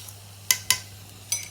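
A spoon clinks and scrapes against a pot while sweet corn chicken soup is stirred, giving a few sharp, close metallic taps spaced apart over a low steady hum.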